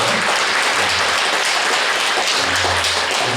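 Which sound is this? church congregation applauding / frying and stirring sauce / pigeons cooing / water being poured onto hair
church congregation applauding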